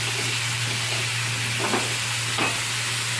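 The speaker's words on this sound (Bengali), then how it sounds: "আলুটাকে ভেজে নেব একটু।" Potatoes fry in hot oil with a steady close sizzle and hiss, and a couple of brief louder crackling bursts rise over the constant frying noise.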